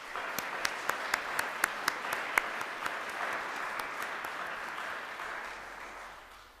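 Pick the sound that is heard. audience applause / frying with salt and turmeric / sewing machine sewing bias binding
audience applause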